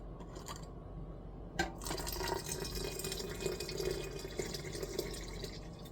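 Mordant goes into a pot of wet cotton yarn for natural dyeing, with a sudden splash followed by continuous quiet sloshing and trickling liquid, heard alone at low level.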